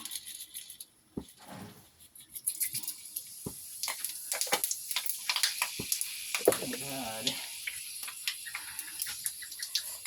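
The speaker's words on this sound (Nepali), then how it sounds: "तेल तात्यो है अब यसमा पहिला सुरु मैले 5 फुरन हाल्छ" Five-spice seeds hitting hot cooking oil, a steady close sizzle and crackle that swells and keeps going, with utensil clinks and a person talking over it.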